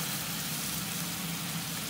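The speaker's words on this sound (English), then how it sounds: "you're stir frying it, really. You know, you just keep it moving so it doesn't burn" Food stir-fried in a pan at home, a steady dense sizzle and crackle that holds evenly throughout without pauses, close and moderately loud, with no talking.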